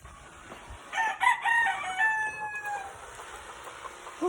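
Gamefarm stag roosters crowing nearby, several overlapping cock-a-doodle-doo calls in quick succession, fairly loud, with faint clucking and outdoor ambience between them.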